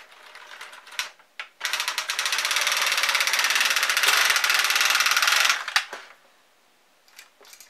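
The carriage of a knitting machine is pushed across the needle bed as it knits rows of a hat, giving a few short clicks and then a long, even, rattling whir that stops, followed by light clicks.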